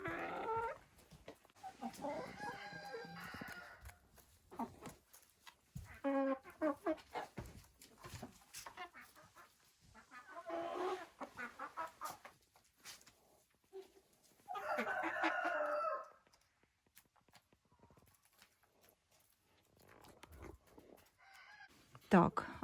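Silkie and frizzle chickens clucking and a rooster crowing in bursts inside a winter village henhouse, with some barn noise and a brief dog-like call mixed in, fairly close.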